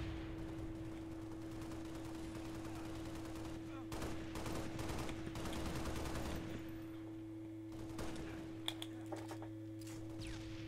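Gunshots in the Halo Reach video game crack out as sharp bursts over a steady game hum, with several quick shots clustered mid-clip and a few isolated ones near the end.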